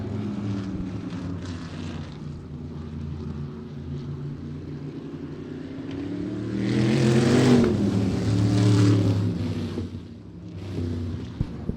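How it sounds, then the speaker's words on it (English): Can-Am sprint cars race around the Havasu 95 Speedway oval, their engines a continuous droning roar that swells loudly as the pack passes close by, then fades back into a steadier distant hum. "We are green sprint cars going round."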